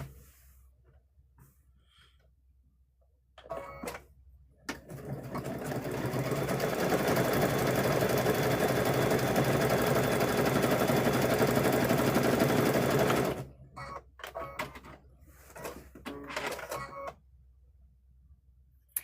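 A sewing machine runs a blanket stitch along the raw edge of patchwork quilt fabric, a steady close mechanical whir lasting several seconds, with brief stop-start bursts before and after.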